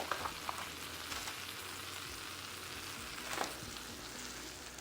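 Buttered sandwiches frying face down in a pan give a steady, moderate sizzle with soft crackles and a couple of brief scraping bumps, no voices over it.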